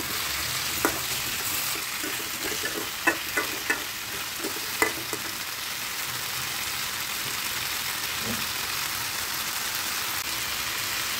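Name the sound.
adding hog plums (amra) to pan and stirring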